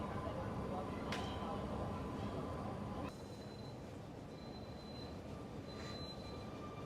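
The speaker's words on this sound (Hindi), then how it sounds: "अब यहाँ से सर्कुलर क्वे की ट्रेन पकड़ रहे हैं, वो मिलेगी प्लेटफॉर्म नंबर 20 पे।" Sydney train at a busy Central Station platform, a steady loud rumble with a brief wheel squeal and high whine, level dropping slightly partway through, crowd voices faintly underneath.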